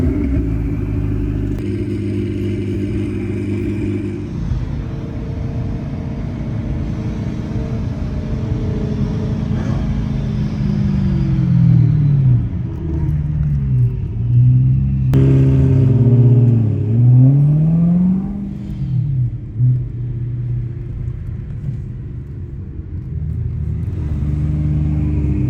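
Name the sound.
Ferrari race car engine revving while drifting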